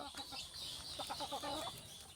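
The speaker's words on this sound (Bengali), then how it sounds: "ওইটা ডিম পাড়ার জন্য বসে আছে" A native (deshi) hen clucking softly while sitting on eggs to brood in a farm coop, a short run of quiet, repeated clucks heard faintly and close.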